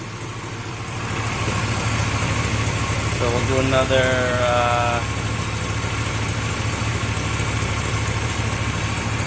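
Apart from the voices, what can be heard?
car engine idling during AC recharge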